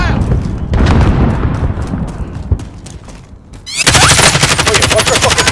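Rapid gunfire and explosions in Call of Duty: Modern Warfare, loud close bursts of automatic fire with a heavy blast near the end, voices shouting over the combat.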